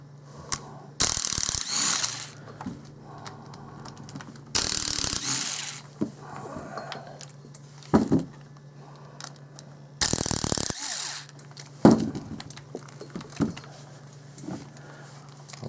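A Makita driver whirs in short bursts as it backs screws out of the gearbox housing of a DeWalt USA Classic 1/2-inch heavy-duty spade handle drill, with several separate runs and ratcheting clicks between pauses, close up.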